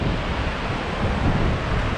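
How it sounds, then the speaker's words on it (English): Strong wind roaring and buffeting the microphone, a continuous rough rumble with no speech. "Incredibly windy."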